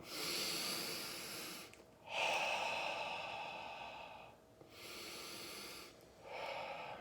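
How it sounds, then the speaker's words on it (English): Three deep breaths drawn in through the nose and blown out through the mouth, slow airy inhales and long hissing exhales close to the microphone, separated by short pauses. "we're just going to take a couple of deep breaths in through our nose, out through your mouth"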